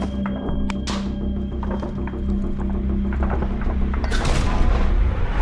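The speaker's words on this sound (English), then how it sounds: "Grenades are being used." Grenades burst during close trench combat against a Russian attack, several sharp booms over a constant low rumble of battle, with a louder blast near the end and no talking.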